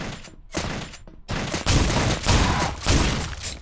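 Enemy shotguns fire in a video game as a run of heavy, loud blasts that merge into a dense, roaring barrage, with short gaps between the bursts.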